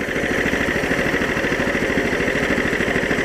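A new 420cc engine fitted to a Case 700 series tractor runs steadily at a fast, even idle, loud and close, with a constant buzzing putter throughout.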